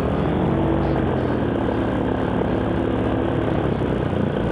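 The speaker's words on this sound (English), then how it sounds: "Keep the motor running." Paramotor engine and propeller running steadily in flight, a continuous loud droning hum with a dense harmonic buzz held at an even level throughout, with no talk.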